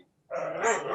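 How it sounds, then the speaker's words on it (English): A dog lets out a short, loud, whiny bark that trails into a whimpering yelp, close by and alone. "The mad dog's here."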